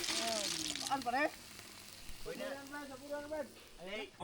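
Telescope horn snail shells sautéing with ginger and onion sizzle softly in a pan, while a person talks over the cooking noise.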